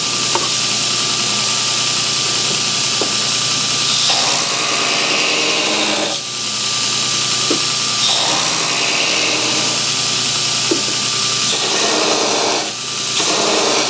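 A belt grinder grinding the bevels on a knife blade gives a loud, continuous close-up roar of motor and abrasive belt, with a few short dips and changes in pitch as the blade is pressed against the belt and shifted.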